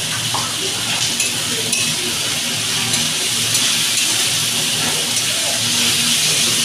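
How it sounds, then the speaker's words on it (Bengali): Sliced onions fry with a pinch of salt in a pan for home-style desi chicken curry, giving a steady, loud, continuous sizzle with occasional stirring scrapes and no talking. "বন্ধুরা, এবার পেঁয়াজটা হালকা হালকা লাল লাল হয়ে ভাজা হয়ে গেছে।"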